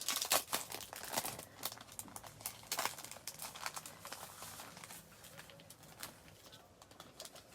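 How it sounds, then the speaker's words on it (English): Plastic packaging crinkles and rustles as items are pulled out of a bag at a desk, with irregular close crackling bursts and handling noises throughout, no talking. "So let's go ahead and pull everything out of"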